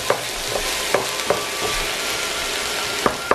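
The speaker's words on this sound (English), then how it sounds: "Stir fry this up" Cauliflower stir fry sizzles steadily in a hot pan, a close hiss broken by sharp clacks and scrapes of a utensil stirring at irregular moments.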